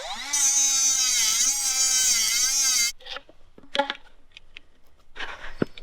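Cutting out a coolant line T fitting on a truck: a steady, loud whining power tool for nearly three seconds stops abruptly, followed by scattered clanks and metallic handling sounds.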